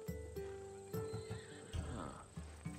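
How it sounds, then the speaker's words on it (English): A horse neighs in Assassin's Creed Odyssey, a loud close whinny over soft clip-clop hoofbeats and faint game ambience, with no voices. "Ah, you have picked a beauty, my friend. That horse is from Thessalonia,"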